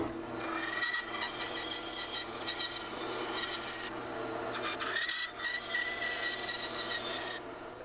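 A hand saw rasps through wood in steady back-and-forth strokes, close and moderately loud, with brief pauses between passes.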